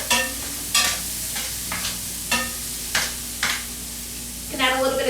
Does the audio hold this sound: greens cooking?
yes